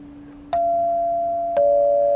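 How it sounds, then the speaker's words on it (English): Two separate metal chime bars on an outdoor playground at a state park campsite are struck about a second apart, each giving a bright, clear ring that sustains and slowly fades, sounding much like a doorbell. "Oh, look, they have one of the wind chime things over there."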